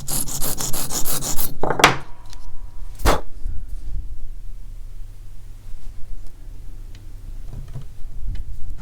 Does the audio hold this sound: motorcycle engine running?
no